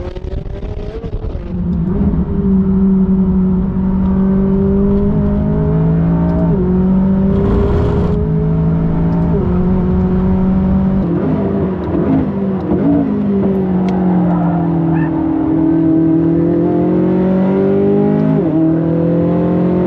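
A race car in track mode accelerates hard through repeated gear changes, its loud engine note climbing in pitch, dropping at each shift and climbing again, heard close from inside with no talk.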